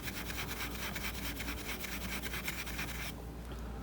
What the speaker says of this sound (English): I'm just going to use this steel wool. This is 0-aught steel wool, so it's actually pretty rough stuff.